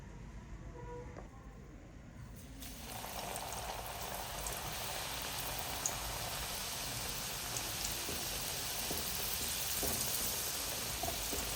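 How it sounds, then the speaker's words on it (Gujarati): French fries drop into hot oil for a second deep frying, the quiet kitchen giving way after a couple of seconds to a dense, steady bubbling sizzle that carries on close and even, without speech. "તો આપણી ફ્રેન્ચ ફ્રાય ઠરી ગઈ છે તો આપણે એને બીજી વખત તળી લઈશું"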